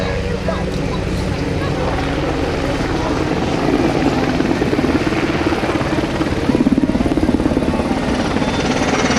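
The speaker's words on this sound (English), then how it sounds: "silhouette of an H-60, that flat bottom with the curved top, huge tail rotor" An H-60 military helicopter flies past at a rotorcraft festival, with a loud continuous rotor thump and engine roar that grows heavier toward the end, a voice talking underneath.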